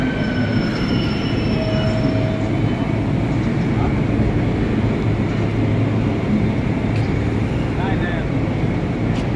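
A Mumbai Metro train runs steadily with a loud continuous rumble and rail noise throughout, and brief wheel squeals come through near the start.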